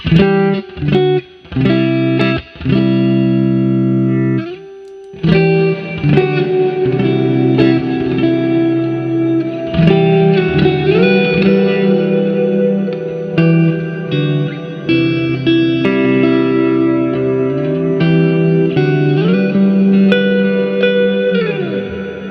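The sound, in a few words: electric guitar through reverb pedal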